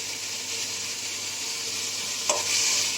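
Tomatoes sautéing in oil for a tomato chutney give a steady close sizzle, with a short scrape of stirring about two-thirds through. No one speaks.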